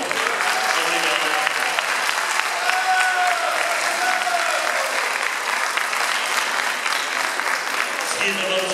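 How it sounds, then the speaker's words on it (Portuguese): Audience clapping steadily and loudly at a choir gala, a sustained round of applause in a hall that continues evenly before tapering slightly at the end. "Uma grande salva de palmas para ele também."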